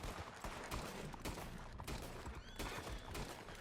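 Gunfire sounding as a string of sharp, fairly quiet shots at uneven intervals, several cracks spread over a few seconds against a low background.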